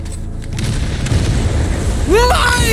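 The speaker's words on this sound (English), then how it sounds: "That's a turret!" Turret fire and explosions in the video game Resident Evil 4 Remake: loud, dense booming blasts that rumble throughout, ending with a rising, whistling burst.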